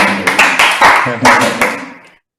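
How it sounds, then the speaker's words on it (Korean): A congregation claps for a pastor at a Friday prayer meeting, a short burst of hand claps in uneven bursts lasting about two seconds before stopping abruptly. "우리 최경 목사님 이렇게 박수 한번."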